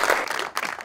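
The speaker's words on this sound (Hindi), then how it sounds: "तालियां बजाते हैं" A studio audience on a television talk show breaks into applause, a dense burst of clapping that holds for under a second at moderate loudness with no voices over it.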